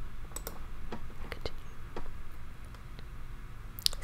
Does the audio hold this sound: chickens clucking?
no